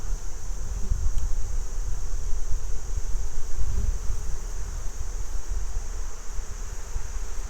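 Honeybees buzzing around an open apiary hive during a September inspection, a steady dense hum close by with faint outdoor rustle underneath and no speech.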